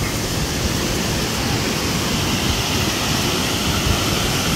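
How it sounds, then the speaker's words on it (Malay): A waterfall roars steadily with wind, a dense, unbroken rushing wash that stays loud and even from start to finish. "Angin daripada air terjun."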